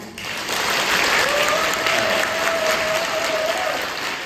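Steady applause from the women in a theatre audience fills the room for several seconds, dense and fairly loud, with a faint tonal hum running beneath it.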